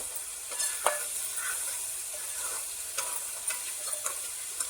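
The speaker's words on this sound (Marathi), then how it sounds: "मी मसाले चांगले मिक्स करते तेलावर" Turmeric, garam masala and Agri masala sizzle softly in hot oil while being stirred in a pan, with faint scraping ticks of the spoon, quiet and close, no talk.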